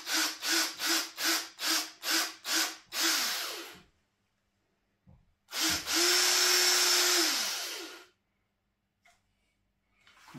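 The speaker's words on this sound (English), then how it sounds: "I'm gonna drill out the plug of glue that's in it" A power drill revs in short repeated bursts, then runs in two longer steady stretches, loud and close, grinding into a plug of glue, with silence between.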